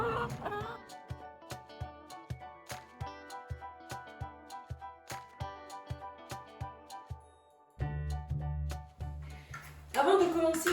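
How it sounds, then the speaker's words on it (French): Hens cluck around someone's feet in a farmyard, short close clucks and chirps set over a rhythmic ticking background with musical tones, then a low hum and a burst of louder sound at the end. "j'ai des poules qui marchent au pied"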